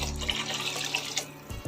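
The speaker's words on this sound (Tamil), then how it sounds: "இப்போ இந்த பிரியாணிக்கு தேவையானங்கிற தண்ணியை ஊற்றிக்கலாம் நம்ம." Water is poured from a vessel into a pot of vegetable biryani, a steady splashing pour that lasts well over a second and then ends with a few soft knocks.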